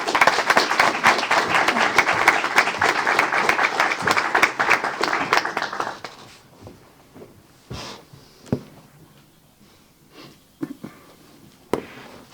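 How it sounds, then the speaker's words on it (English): Applause for the mayor at a city council meeting, a dense burst of clapping that fills the room for about six seconds before breaking off into scattered single claps and quiet room noise. "Let's give them a round of applause."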